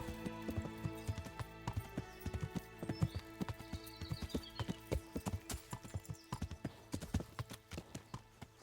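Horse hooves clip-clop in a medieval video game, a steady, even rhythm of close, crisp hoofbeats on hard ground with no talking.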